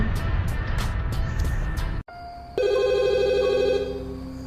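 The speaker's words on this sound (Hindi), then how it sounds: "प्रताप कोठी में फोन की घंटी घनघना रही थी।" A sharp electronic telephone ring sounds after a brief cut, its bright trilling tone sustained over a rumbling background.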